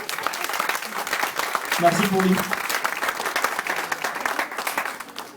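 An audience at a 30th birthday party gives a DJ a loud, steady round of applause that lasts the whole clip, and a voice speaks briefly over the clapping partway through.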